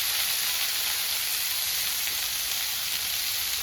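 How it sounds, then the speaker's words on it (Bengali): Chopped tomato sizzles steadily in a hot pan while being stirred with spices for a potato and fish curry, a continuous loud frying hiss with no talking. "ভালো করে নেড়ে মশলা দিয়ে দেবো"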